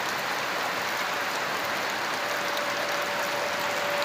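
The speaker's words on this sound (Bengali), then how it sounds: "বৃষ্টিটা খুব জোরেই হচ্ছে।" Heavy rain falls steadily in a long, dense hiss with no breaks, nearby and fairly loud, during a forty-minute downpour that caused flooding.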